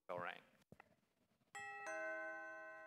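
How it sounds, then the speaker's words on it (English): A two-note ding-dong doorbell rings once, clear and fairly close, following a brief stretch of narration, with the chime tones sustaining and fading on a nippy November day in a stage play setting. "the doorbell rang."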